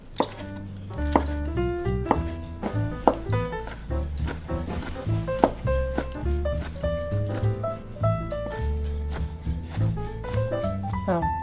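A knife cubes mushrooms on a cutting board in a steady run of sharp chops, heard against continuous tonal background music.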